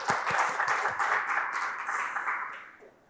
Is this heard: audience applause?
yes